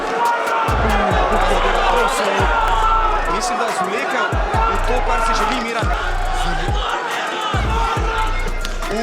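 A fighter's supporters roar and chant in the hall at a kickboxing or MMA bout, a thick crowd noise with rhythmic low stomping or thumping bursts, while a commentator talks over it.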